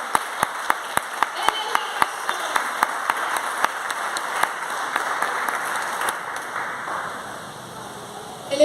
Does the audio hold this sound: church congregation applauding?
yes